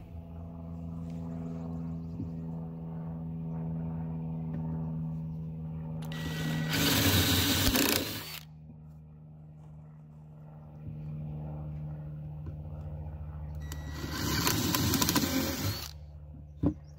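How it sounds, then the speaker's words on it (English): Two short bursts of a power drill boring holes for a homemade tomato trellis, each about two seconds long, with a quieter steady hum in between. "and then we'll get those drilled out."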